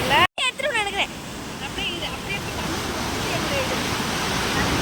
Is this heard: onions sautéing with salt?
no